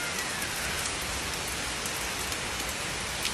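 Steady rain falls, a dense even hiss of drops on surfaces with no break, heard alone and moderately loud.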